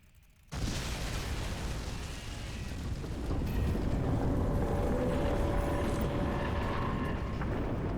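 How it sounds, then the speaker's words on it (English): Explosion from the video game Crysis 2 Remastered, set off while destroying a spore conduit inside an alien hive, bursts in abruptly after a brief quiet and swells into a loud, sustained rumbling roar that fills the rest of the clip. "Explosion imminent."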